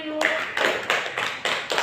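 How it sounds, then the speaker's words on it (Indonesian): Classmates in a classroom applaud a student after a presentation, a close burst of hand clapping that comes in several rhythmic waves over about two seconds. "Tepuk tangan dulu buat Binayu."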